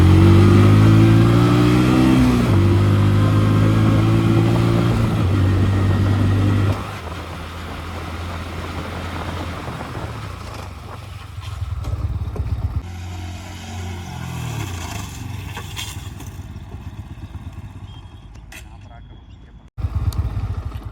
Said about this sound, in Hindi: घुमा लेते हैं यहाँ से बाइक को और करेंगे टेस्ट पल्सर की ब्रेकिंग। 60 की स्पीड होगी इसमें।